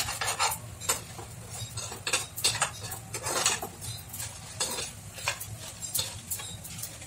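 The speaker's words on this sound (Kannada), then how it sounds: "ಸ್ವಲ್ಪ ಸಣ್ಣ ಉರಿಯಲ್ಲಿ ಉರಿತೇನೆ, ಯಾಕಂದ್ರೆ ಮೆಣಸು ಕಪ್ಪಾಗಬಾರ್ದಲ್ಲ" Red chillies fry on a low flame in a pan while a spoon stirs and scrapes them. There is soft sizzling with repeated light utensil clinks and scrapes throughout, and no talk.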